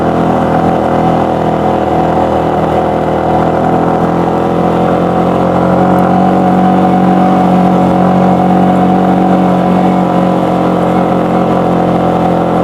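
A vehicle engine labouring in second gear up a steep paved hill road, a loud, steady, close drone with a slight rise in strain midway and no talk.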